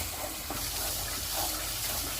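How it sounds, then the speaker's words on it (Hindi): Fish curry masala mixed with yogurt and water fries in a pan, a steady close hiss and sizzle with no pauses and no voices over it. "अब इसे 2 मिनट तक भूनेंगे।"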